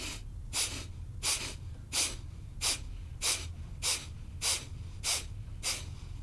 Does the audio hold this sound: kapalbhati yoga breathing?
yes